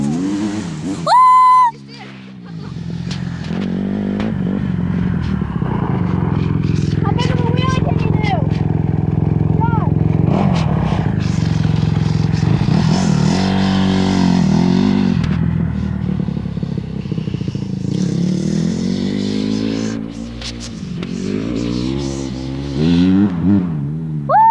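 A 350 dirt bike engine revs up and holds a loud, sustained roar close by for about twenty seconds, with short bursts at the start and end and voices briefly heard around it.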